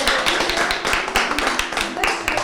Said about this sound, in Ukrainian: Оголошую вас чоловіком та дружиною оплесками привітаємо.